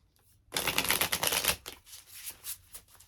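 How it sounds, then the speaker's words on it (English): Tarot cards are riffled and shuffled close by: a dense burst of crisp flapping and clicking, then several softer, separate shuffles that trail off near the end. "Let's shuffle one more time."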